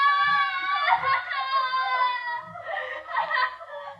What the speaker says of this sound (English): they scream because they remember things